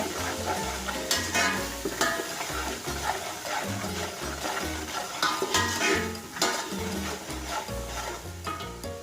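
Red chili and turmeric powder are stirred and fried in a pan for potato pea curry, with a continuous sizzle and repeated scraping strokes of a spoon at close range.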